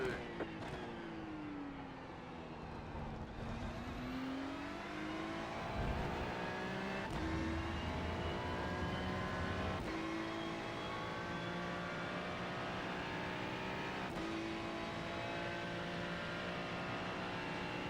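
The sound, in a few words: GT3 race car engine in a racing video game at Interlagos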